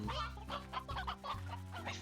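Stony hens in the video game Slime Rancher cluck softly in a quick run of short clucks over a low droning game music bed.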